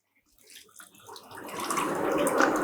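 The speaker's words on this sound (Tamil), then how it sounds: "அந்த 4 லிட்டர் பாலையும் ஊத்திக்கலாம்." About four litres of milk poured into a pot while making ghee, starting faint and swelling into a steady, splashing liquid stream that grows louder toward the end.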